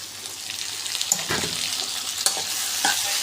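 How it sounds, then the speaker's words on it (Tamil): Tomatoes drop into onions sautéing in a pan for chicken gravy, a soft sizzle with a few brief bursts of spatula scraping and clatter, close and moderately quiet. "இப்போ வெங்காயம் நல்லா வதங்கிடுச்சு தக்காளி போட்டுக்கலாம்"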